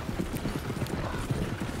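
Horse hooves clip-clop steadily in the Red Dead video game, a quiet, even trotting rhythm running throughout with faint mechanical noise and no voices.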